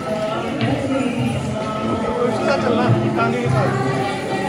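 Horses clip-clop along the busy pilgrimage path to Vaishno Devi, with hoofbeats mixed into a murmuring crowd and nearby chatter, moderately loud and continuous.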